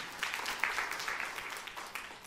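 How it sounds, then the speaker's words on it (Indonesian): A church congregation applauds during a sermon, a brief, moderately faint wash of many clapping hands lasting about two seconds. "Tepuk tangan yang meriah untuk kemuliaan nama Tuhan."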